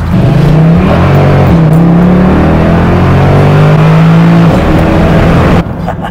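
A car engine revs hard and holds at high revs, loud and close, with the pitch climbing and dipping in a few steps before it drops away near the end.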